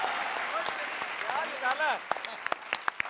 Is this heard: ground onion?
no